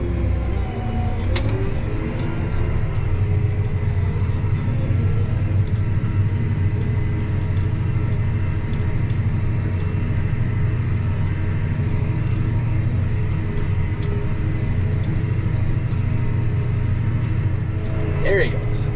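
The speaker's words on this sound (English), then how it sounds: "Fertilizer spreader has shown up." A fertilizer spreader truck with large tires drives across a farm field, its engine a steady low rumble that carries throughout, with a brief clatter near the start and another near the end.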